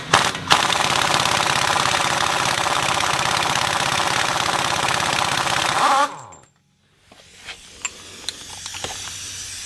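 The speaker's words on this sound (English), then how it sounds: "I gotta remove the axle nut. It's a 30mm socket required." An impact gun removes the axle nut on a 1980 VW Rabbit with a 30mm socket, a loud continuous rattling hammer for about six seconds, then it stops and a few faint metallic clinks follow.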